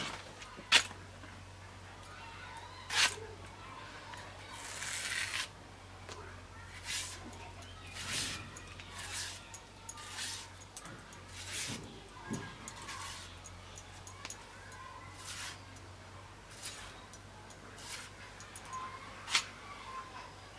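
Taro (mankochu) stems being cut with a knife, a series of sharp, irregular chopping clicks spaced a second or two apart, close and fairly soft, with a low hum in the background.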